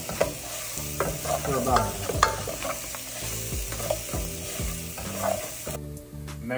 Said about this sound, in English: Now we're gonna let it fry.